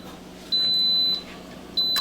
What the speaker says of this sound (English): So it should be beeping soon, okay?